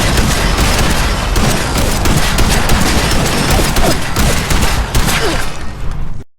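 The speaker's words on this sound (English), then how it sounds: "here's a couple clips of me shooting a double-barrel shotgun" Double-barrel shotgun in Fallout 76 firing nonstop in a glitched rapid stream, dense loud blasts crowding together for about six seconds with no pause to reload, cutting off abruptly at the end.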